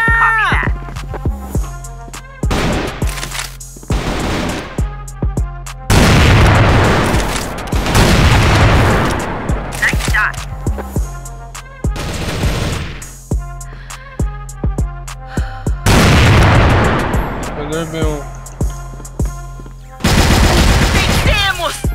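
Grenade blasts and gunfire in the shooter game CrossFire, loud bursts of automatic fire and booming explosions coming in repeated waves, with voices calling out between them.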